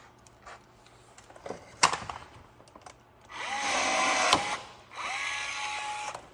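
A power tool rivets a Gen 2 three-piece front lip splitter onto a Tesla Model 3. Two whirring bursts rise and fall, each a second or more long, close by, after a few quiet clicks and taps.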